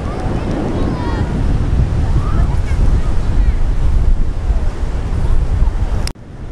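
Strong wind buffets the microphone over a steady roar of Atlantic Ocean surf on an Argentine beach, loud and continuous, cutting off abruptly near the end.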